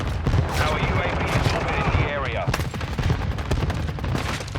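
Rapid automatic gunfire from a TAQ-56 assault rifle in the shooter game Call of Duty: Modern Warfare II, loud, dense and continuous across the whole stretch, with no one talking.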